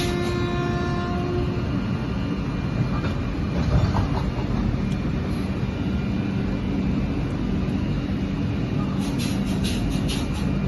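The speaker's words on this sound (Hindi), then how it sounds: "आज तेलंगाना एक्सप्रेस अपने पुराने टाइम टेबल पर चल गया।" Telangana Express train running along the tracks on the Itarsi–Ballarshah section in the monsoon, a steady close rumble and rattle of the coaches lasting throughout, with faint clatter and no talk.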